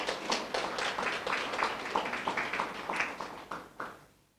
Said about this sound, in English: once another round of applause